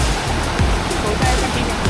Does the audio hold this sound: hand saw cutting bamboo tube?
no